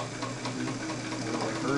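A Singer 337 sewing machine with an internal motor and belt stitches steadily, a close, continuous whirring drone with a rapid mechanical rhythm and no talking.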